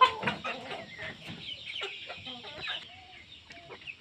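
Several Hmong chickens cluck and chatter close by, a busy overlapping stream of short clucks and squawks with a few higher calls.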